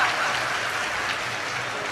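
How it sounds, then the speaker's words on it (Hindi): Loud applause from a mushaira poetry-gathering audience, dense steady clapping filling the whole moment without a break. "आप अपने लिए एक बार जोरदार ताली बजाएं"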